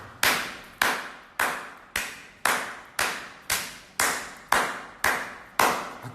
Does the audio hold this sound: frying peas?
no